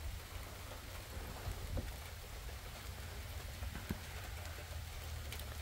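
Steady rain pours during a Canadian summer thunderstorm, a dense even hiss with low rumbling underneath and a few sharper drops standing out, continuous and close throughout.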